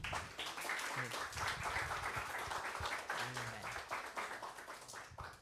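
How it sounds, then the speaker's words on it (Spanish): A congregation at a church seminar claps to welcome a pastor, the applause fairly faint and distant with a few louder nearby claps and brief murmurs of voices under it. "Puede recibir al pastor con un aplauso"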